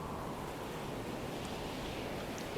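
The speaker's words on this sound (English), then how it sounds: "Let's turn up some wind and see what we can get out here." Wind and ocean surf wash around a yacht in a tsunami survival game, a continuous broad roar at steady loudness with no voices.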